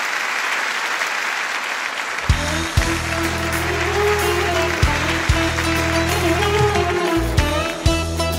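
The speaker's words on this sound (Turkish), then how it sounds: "Alkışlar." Audience applause on a Turkish TV music show's 90s night, sustained clapping that blends into the opening of a band's song with low instrumental tones rising beneath it.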